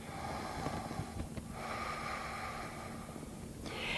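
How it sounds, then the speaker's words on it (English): Slow breathing during calming stretches, a sharp nasal inhale followed by a long, soft exhale, quiet and close with no talk. "we're really focusing on the breathing"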